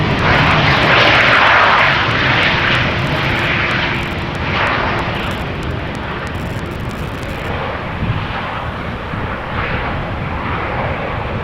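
A fixed-wing airliner comes in to land at Amsterdam Schiphol Airport, its engines giving a loud, continuous roar with some wind buffeting, steady across the whole stretch.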